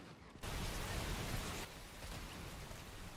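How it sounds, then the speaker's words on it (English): Recorded rain sounds play as a steady, low, broadband hiss that shifts slightly partway through, soft and even with no voices over it. "Let's do some rain sounds."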